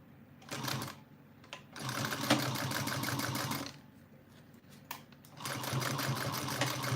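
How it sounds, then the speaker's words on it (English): A sewing machine back-stitches a small Araki box bag seam at 3/8 inch, running in close, loud rapid-fire bursts of stitching separated by short pauses. "Back stitching."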